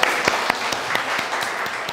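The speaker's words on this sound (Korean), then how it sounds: "네, 우리 승환이 박수." Audience applause at a gathering welcoming a young man back after a year: a short burst of many hands clapping at a brisk, fairly even rhythm, close and moderately loud.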